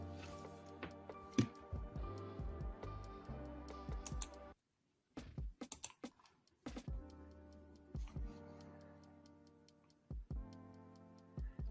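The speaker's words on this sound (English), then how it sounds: "Are you typing?" Computer keyboard typing, a run of sharp irregular key clicks that are close and quiet, broken by a brief silent gap.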